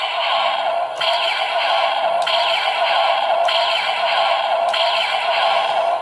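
Electronic activation sound from a Power Rangers Megaforce Battle Gear toy, a bright buzzy tone looping continuously with regular pulses about every second and a quarter, loud and close with no talking.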